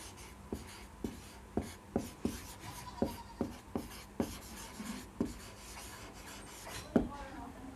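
Chalk tapping and scraping across a classroom blackboard as a biology teacher writes a heading, a steady series of short, sharp strokes about every half second, close and fairly quiet, with no talking.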